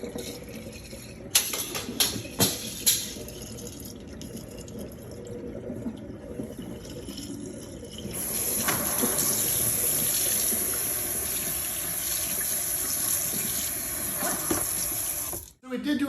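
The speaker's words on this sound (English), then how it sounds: "We'll pretend like we're flushing it." Household toilet flushing, then the tank refilling: a few clunks and handling knocks at first, then a steady rush and hiss of water running and filling, close by, ending abruptly.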